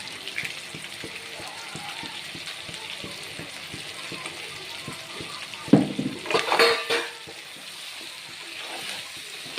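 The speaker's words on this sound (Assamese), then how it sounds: "এতিয়া লাৰি দিওঁ, অলপ লাৰি দি নাংমান আৰু অলপ মছলাত ভাজক" A spoon scrapes and clinks against a pan of spiced meat in a steady rhythm, with a louder burst of stirring and clatter partway through.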